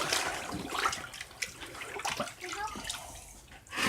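Alum tanning solution sloshes and swirls in water as it is stirred, a steady close watery churning with small splashes throughout and no speech.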